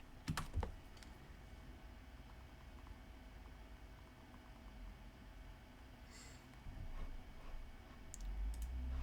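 Someone types on a computer keyboard while setting up Windows on a remote machine: quiet, close clicks and taps come in scattered bursts over a faint steady background hum, and there is no talking.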